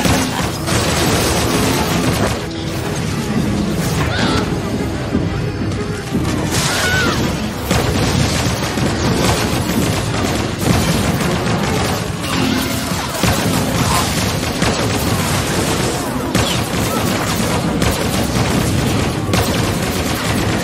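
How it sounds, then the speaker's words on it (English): Artillery and gunfire roar through a large video game battle on Novare Coast: dense, continuous booms, blasts and crackling shots pile up loudly for the whole stretch, with no clear pauses and no talk. "Artillery is breaking through the enemy shield."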